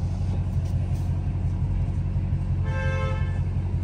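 Horn of a Dodge Hellcat Redeye honking on a downtown Miami street, a sustained blare arriving late over a steady low engine rumble and road noise.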